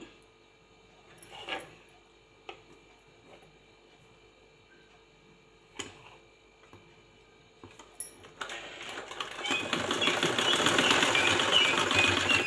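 A sewing machine stitching lace onto a blouse lining gives a few quiet, scattered clicks before settling into a continuous, louder whirring run in the final seconds, with no talking.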